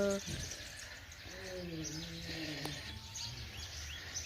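Faint sparrow chirps flicker over a soft, steady background in a home backyard where grain is scattered for them, with a voice murmuring briefly in the middle.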